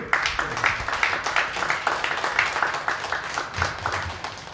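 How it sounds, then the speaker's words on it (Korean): Church congregation clapping together during a Sunday worship service, a full, rhythmic round of applause with a regular pulse that stays strong and then tapers slightly at the end. "우리 다 같이 박수로 감사드리고."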